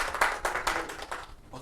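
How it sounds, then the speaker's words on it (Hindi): Audience clapping at an Indian community interview event, a short burst of hand claps rising and falling in loose rhythm, moderately close, without talk over it. "तालियां बजनी चाहिए।"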